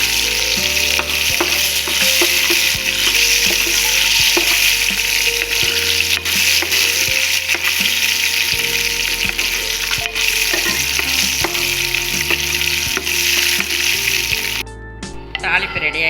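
Cashew nuts frying in hot oil for tempering, a steady close sizzle beneath background music, cutting out briefly near the end.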